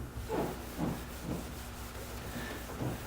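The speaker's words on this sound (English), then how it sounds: "Try to get that residue off now from the compound" Rubbing compound residue being wiped and buffed off a surface by hand, a soft rhythmic rubbing stroke repeating about every half second, close and quiet against a steady low hum.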